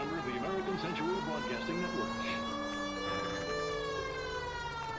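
A police car siren in the video game L.A. Noire wails continuously in a long rising and falling tone that stays loud and steady, with someone talking over it in the first second.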